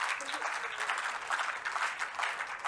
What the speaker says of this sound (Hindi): मैं चाहूंगी उनके लिए भी जोरदार वैसे ही तालियां हो जाएं जैसे आप बजाते हैं